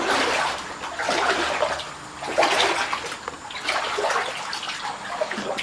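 A small waterfall in a drying brook rushes and splashes steadily nearby, its churning flow rising and falling slightly in loudness with no voices over it.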